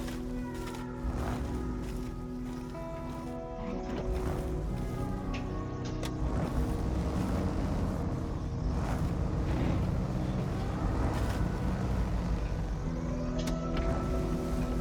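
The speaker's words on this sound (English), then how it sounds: "driving around out here, you're just going to spin your wheels" In the SnowRunner off-road video game, a stuck truck's engine drones and revs with tonal whine while its wheels spin, continuous and moderately loud, rising in intensity midway.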